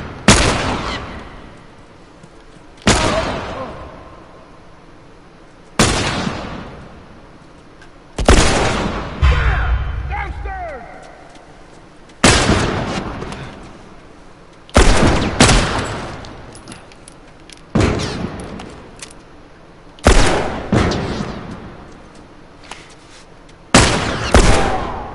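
Gunshots from The Last of Us, loud single blasts spaced every few seconds, each with a sharp attack and decaying boom, close and alone with no talk.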